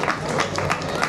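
A festival crowd at a Walloon celebration in Charleroi applauds an accordionist in a brief burst of dense, continuous clapping.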